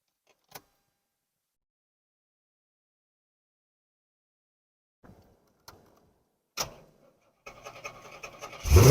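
A 1984 Corvette that had sat unstarted for a while gives a few faint clicks and thumps after a long quiet stretch, then a sudden crank and catch. It ends in a rough, uneven idle that grows louder.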